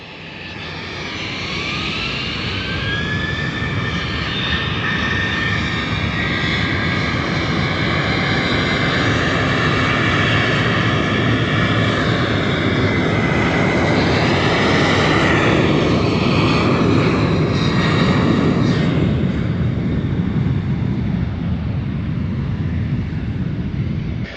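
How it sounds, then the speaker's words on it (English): A jet airplane roaring as it takes off, the engine noise building to a loud, steady rumble with a rising whine, sustained throughout. "we should probably stop and record one airplane taking off"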